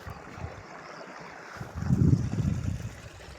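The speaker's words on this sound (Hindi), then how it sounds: "देखो पानी जा रहा है।" Irrigation water flowing into a farm field, a steady outdoor rushing wash with wind noise that swells louder partway through and then settles.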